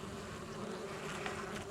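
Honeybees buzz steadily in a dense, close drone at an opened hive being fed in warm weather, with no talking.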